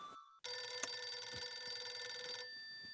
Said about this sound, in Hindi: फोन की घंटी बज रही है।